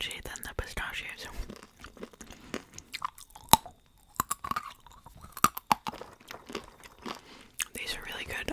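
Crunchy tamari almonds roasted in soy sauce are bitten and chewed close to the mic, with irregular crisp crunches and soft mouth sounds between quiet whispered talk.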